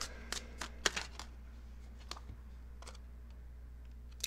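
Tarot cards are drawn from a pre-shuffled deck, a handful of soft, quiet card snaps and flicks scattered irregularly over a low background hum, with no speech.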